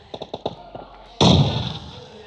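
Grenade exploding close by in the mobile battle royale game PUBG Mobile, a few light taps of footsteps followed by a sudden loud blast that rumbles and decays.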